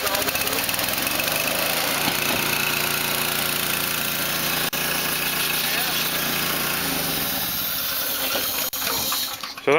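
A Honda gasoline engine drives a scuba air compressor, running with a steady, loud mechanical chug and vibration throughout, with a faint voice underneath and a brief drop near the end.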